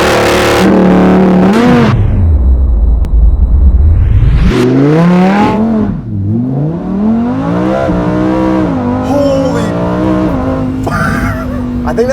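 A 2020 Lamborghini Huracan EVO with a 640-horsepower V10 roars hard under launch control, its engine note climbing sharply through gear changes with a brief dip before surging again. The car sounds loud and close.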